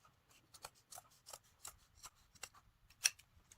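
Scissors snip through woven rag rug fabric behind a zipper, a quiet series of short crisp cuts at an irregular pace.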